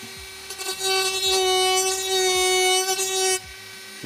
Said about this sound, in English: now I'm going to use the Dremel